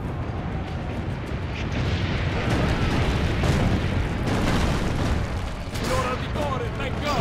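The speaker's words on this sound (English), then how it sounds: "Load in, and I will gladly man the cannon." Cannon fire in Assassin's Creed Brotherhood, heavy booming blasts and rumbling battle noise layered over a steady roar, with someone talking in places and a few faint whistling tones later on.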